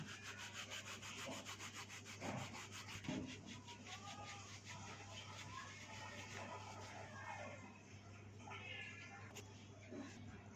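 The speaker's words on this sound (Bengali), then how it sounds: "আর দিচ্ছি কাসুরি মেথি, এটা হাতের মধ্যে ঘষে দিয়ে দেবো।" Dried fenugreek leaves (kasuri methi) crushed between the palms over a chicken tikka marinade, giving a dry, papery rustling that runs steadily and close up, with a faint background hum.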